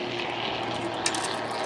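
A jet-powered Pitts Special aerobatic biplane performs at the Blackpool Airshow, its engine a steady, broad roaring whine that holds constant throughout, loud and unbroken, with no voices.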